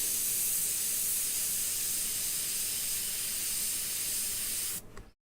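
Watery paint squirted from a spray bottle gives a steady, close hissing spray that runs for about five seconds before cutting off abruptly.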